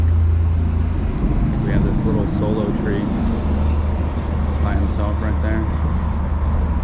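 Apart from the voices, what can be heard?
road traffic noise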